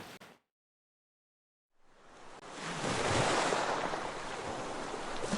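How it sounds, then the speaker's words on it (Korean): Ocean waves wash in with wind at the seashore. The sound starts after a short silence, then swells into a broad, steady rush that stays loud to the end. "파도 소리, 바람 소리, 물소리가."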